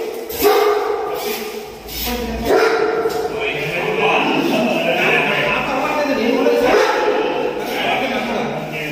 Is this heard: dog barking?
yes